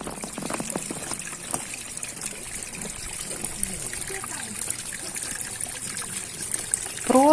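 Small, clear mountain streams trickling on the way up to Lake Ivor in Transcarpathia, a steady close babble of water running throughout, with a brief louder sound near the end.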